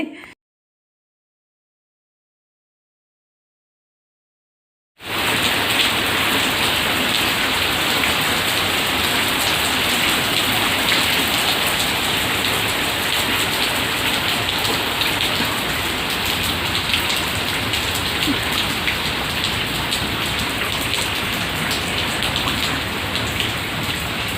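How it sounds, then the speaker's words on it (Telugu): Steady rain shower falling during a rainy spell after a flood, a dense, even hiss of drops on surfaces that starts abruptly after a few seconds of silence and continues loudly without any voices. "ఈరోజు కూడా జల్లు పడతానే ఉన్నది"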